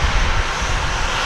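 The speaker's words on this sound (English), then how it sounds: "The flight we're about to see take off is 1902 American Airlines to Oklahoma City, Oklahoma." An American Airlines jet, flight 1902 to Oklahoma City, takes off at DFW Airport with a loud, steady engine roar that fills the air close by.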